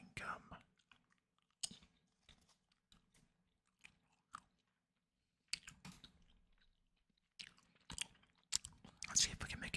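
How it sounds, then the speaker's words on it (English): Spearmint Extra chewing gum chewed close to the microphone, soft wet smacks and clicks in irregular bursts, with occasional quiet keyboard clicks and faint whispering between them. "pop in some spearmint extra chewing gum"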